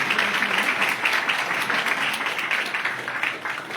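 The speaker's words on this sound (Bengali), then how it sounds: "জোরে হাততালি, এত আস্তে কিন্তু হবে না" An audience claps at a satsang as a guest is called to the stage, producing a steady wash of applause from many people, moderately loud and tapering slightly near the end.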